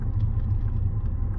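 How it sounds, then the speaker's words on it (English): A Volvo car stuck in one gear runs with a low, steady engine rumble and drone from inside the cabin, holding an even pitch throughout the short span. "if I accelerate we just stay in that gear. Which obviously isn't ideal for the car because it's just revs a lot"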